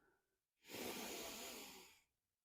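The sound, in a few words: deep inhale breathing during yoga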